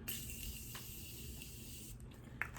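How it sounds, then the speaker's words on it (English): Morphe setting spray misted onto a face during a makeup routine, a faint, steady airy hiss running evenly through the whole moment with no talking. "some setting spray, or Morphe setting spray on my face"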